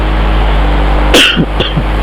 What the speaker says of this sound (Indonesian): gua belum sehat, masih ada batuk-batuk dikit lah